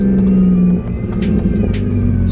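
A BMW E46 engine revs hard and close, then drops off as the exhaust crackles and pops in quick bursts.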